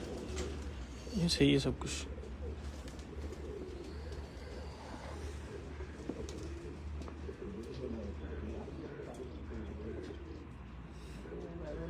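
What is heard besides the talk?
champion pigeons cooing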